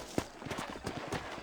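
Horse hooves clip-clop in an even walking rhythm on a trail in the video game Red Dead Redemption, fairly soft and close.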